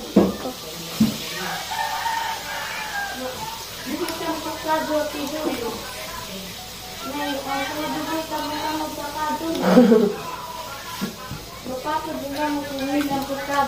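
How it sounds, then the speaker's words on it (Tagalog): A rooster crows several times nearby, its calls rising and falling over scattered clucking and other farmyard noises. "Hari Dodo na, mag-iyaw tag manok."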